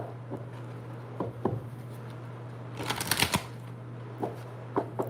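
Tarot cards shuffled by hand in soft bursts of riffling and tapping, with a denser flurry in the middle, close and fairly quiet over a steady low hum.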